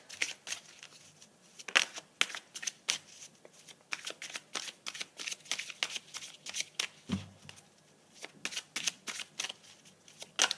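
Angel oracle cards are shuffled by hand close up, a run of quick papery riffles and slaps in uneven rhythm with no talking.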